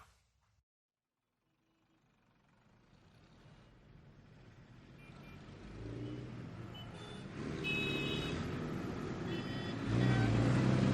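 Car engine in a DC video game, building steadily from near silence into a louder, rising drone with brief beeping tones over it as the vehicle gets moving on the road.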